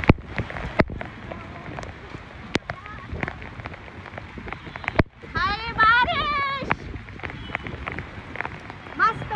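Heavy rain patters and crackles steadily on surfaces, with scattered louder drops, while a person talks over it and a brief chirping sound rises midway.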